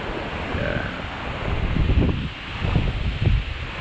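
Strong wind roaring across a microphone outdoors, a continuous low rumble with gusts that swell and buffet heavily in the second half.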